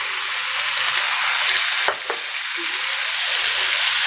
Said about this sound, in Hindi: अब हम इसमें टमाटर भी ऐड करते हैं